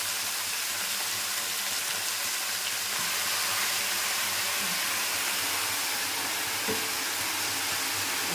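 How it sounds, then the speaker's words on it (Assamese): Leafy greens sizzle with onion and chilli in a hot pan, a steady close hiss of frying that runs unbroken throughout, with no talk. "এয়া মই এতিয়া শাকখিনি দি দিম।"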